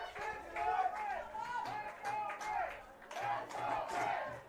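A crowd at a college men's lacrosse semifinal chants in steady rhythmic bursts, loud and sustained, voices rising and falling in repeated group calls through the whole stretch.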